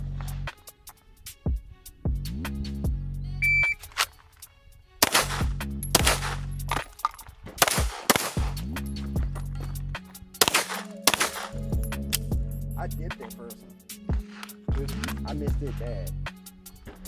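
Taurus G3 Tactical pistol shots ring out at a shooting course, with sharp, loud reports spaced irregularly among footsteps and clatter while people talk in between.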